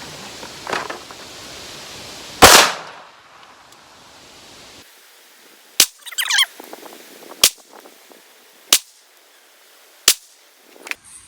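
Walther CCP M2 .380 pistol firing AAC ammunition at an outdoor range, one sharp, loud report followed after a pause by four more single shots spaced roughly one and a half seconds apart, each ringing briefly into a quiet background.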